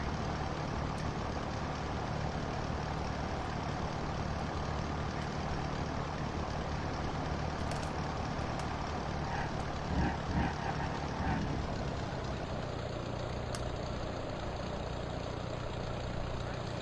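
A propeller aircraft engine in a flight simulator game, throttled all the way down, gives a steady broadband drone that holds level throughout with a few faint clicks partway through.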